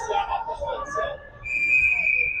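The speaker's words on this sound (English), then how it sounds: "Whistle on the play." A referee's whistle at an ice hockey game against Gatineau shrills as a single sustained, piercing blast in the second half, following play-by-play commentary over distant arena noise.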